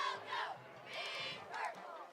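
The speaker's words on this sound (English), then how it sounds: "Cheerleaders, you can hear them." Cheerleaders chant in bursts through a crowd mic at a high school football game between the Navarro Panthers and Salado Eagles, their voices rising in rhythmic waves over a steady crowd roar.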